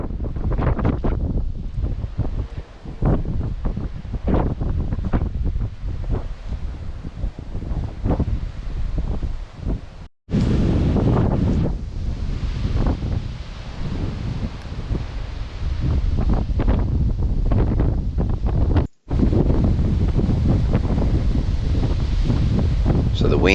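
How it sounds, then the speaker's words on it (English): Strong wind storm in Tasmania: heavy, continuous gusts roar and buffet the microphone with rustling foliage, loud and sustained, broken by two brief cuts. "So the wind just kept getting stronger and stronger"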